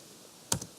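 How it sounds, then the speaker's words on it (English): A computer keyboard gives a quick pair of close key taps while a command is entered, brief and sharp against near silence. "Your next step is to type in"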